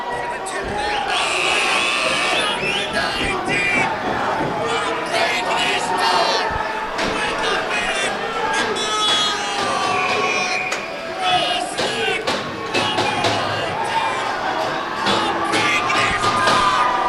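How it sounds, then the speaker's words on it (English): Crowd at a junior hockey playoff game roaring and cheering as Cross Lake scores a tie-breaking goal, a loud, steady wall of shouts and whistles with an announcer talking over it. "The fans are going crazy as Cross Lake breaks this"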